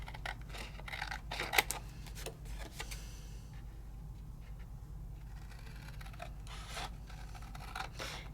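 Freehand scissors trim extra paper away from a die-cut craft piece, giving a few scattered dry snipping and rustling bursts, loudest early on, over a steady low room hum.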